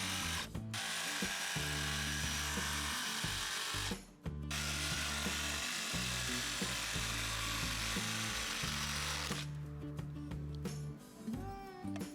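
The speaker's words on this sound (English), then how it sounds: "when I go ahead and cut the pipe down with my jigsaw" A jigsaw cuts down a 6-inch pipe with a loud, steady buzzing drone that pauses briefly twice and then resumes, ending in a few rattling stops.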